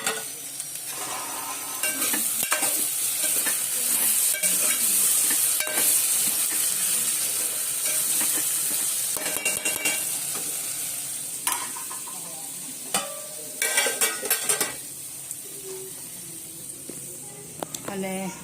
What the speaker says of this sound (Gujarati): શાકમાં ચમચો ફેરવવાનો છે.